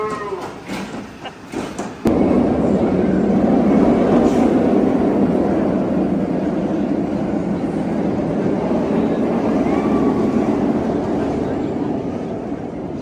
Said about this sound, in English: That is a Raptor, the B&M Invert here at Cedar Point.